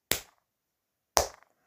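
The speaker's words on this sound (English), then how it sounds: "Round of applause to me." Two sharp, isolated hand claps about a second apart, close and dry with silence around them, from a person applauding themselves.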